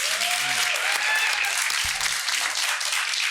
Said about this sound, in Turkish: Yaptım diyenler alkışlayabilir mi?